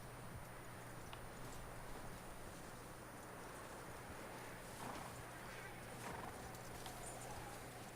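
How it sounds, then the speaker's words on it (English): Horse in the Red Dead Redemption 2 video game, faint hoof clip-clops and a whinny over a low steady game background hum, with voices talking. "That looks like a decent horse."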